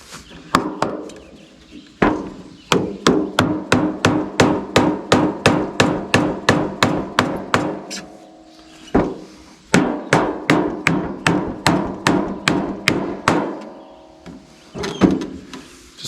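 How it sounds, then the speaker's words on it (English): Hammer blows driving pins into pre-drilled holes on a County Line sprayer, sharp close strikes in quick, even bursts of about a dozen each, separated by short pauses, with no talking. "Let me get a hammer."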